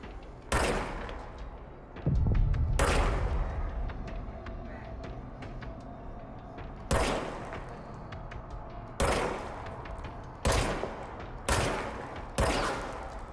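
Gunfire from a gun in the video game Control: a series of loud, sharp shots, some single and some in short bursts, with gaps of a second or more between them and decaying reverberant tails.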